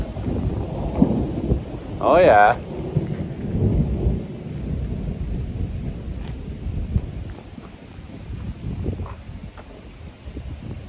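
A severe thunderstorm, with deep rolling thunder and steady rain filling the air. A brief voice cuts in early, and the rumble fades gradually toward the end.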